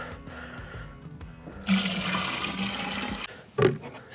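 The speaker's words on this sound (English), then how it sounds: "I'm going to put a gallon of water." A gallon of water is poured into a container during rammed earth maintenance, making a steady splashing, gushing rush that swells midway and ends with a brief louder slosh.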